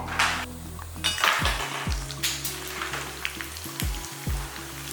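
Sun-dried rice vathal crisps fry in oil over a medium flame, crackling and sizzling steadily while utensils clink and scrape against the pan at intervals. No talking.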